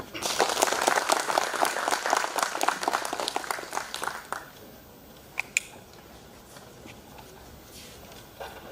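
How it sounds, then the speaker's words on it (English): Audience applause at a town hall general meeting, dense steady clapping for about four seconds that fades out, leaving room tone with a couple of sharp knocks. "Once again, a big round of applause for him."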